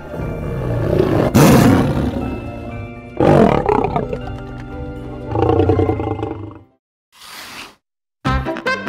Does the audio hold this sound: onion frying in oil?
no